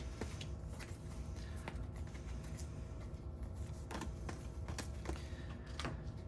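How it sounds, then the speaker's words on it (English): Soft papery riffling and flicking of cards as a whole deck is shuffled during a tabletop card game, repeated bursts over a faint background hum, fairly quiet and close. "we are going to shuffle up the whole deck"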